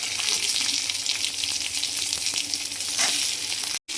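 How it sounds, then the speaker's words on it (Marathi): Onion frying in a pan, a loud, close, steady hiss of sizzling oil with faint stirring scrapes, cut off abruptly just before the end. "कांदा पण ना चांगला लाल होईल बघा, भाजून घ्यायचा आपल्याला"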